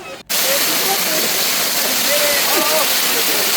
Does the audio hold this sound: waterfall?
yes